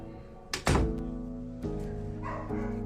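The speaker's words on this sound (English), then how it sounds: "let me close this door" A single solid thud of a door shutting close by, followed by faint dog barks over a low background hum.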